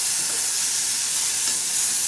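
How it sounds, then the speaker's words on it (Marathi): Cowpea beans being stirred into a hot tempering in a pan produce a loud, dense, continuous sizzle with faint scraping underneath and no voices. "तर शेंगाला असं छान असं हलवून घेणार आहोत."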